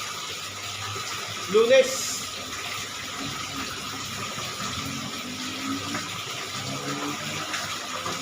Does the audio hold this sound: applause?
no